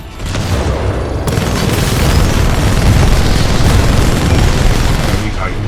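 Titan weapons pound at an enemy Titan in Titanfall 2: a loud, continuous barrage of heavy booms and rapid gunfire, sustained for several seconds with one sharp onset early on.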